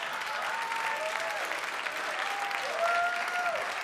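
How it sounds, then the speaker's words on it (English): A comedy club audience at a live stand-up show breaks into steady applause with whooping, a dense wash of clapping holding even throughout with a few rising whoop calls near the end. "judging by your applause and your weird Arsenio Hall whoop that you just did"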